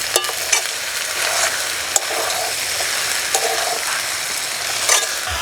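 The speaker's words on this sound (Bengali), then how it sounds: "উনুনের জাল একদম কমিয়ে দিয়ে 2 থেকে 3 মিনিট ভেজে নিলেই হয়ে" Peas fry over a very low flame in a pan as they are stirred, giving a continuous close sizzle with scraping strokes and a few sharp clicks of the utensil against the pan, and no talking.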